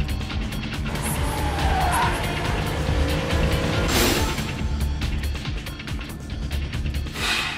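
Anime car engine roaring steadily at close range, said to share the sound of the Blackbird, with a tire-squeal-like sweep near the middle and brief bursts of noise throughout.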